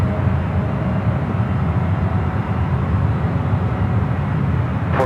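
A United Boeing 787 Dreamliner jet departing San Francisco International Airport, its steady heavy engine roar continuous and loud throughout, broad rumbling noise with no pauses and no voices.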